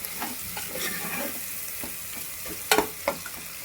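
Tomatoes soften in a hot pan for a goat head curry, giving a soft steady sizzle under a few scraping stirs of a spoon, with a couple of sharper clinks near the end.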